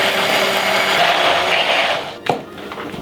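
A whirring motor blends oil and vinegar into vinaigrette in a retro "miracle" mixing machine, steady and close for most of the clip before cutting off with a brief clatter.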